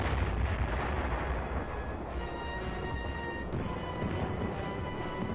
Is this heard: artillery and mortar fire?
yes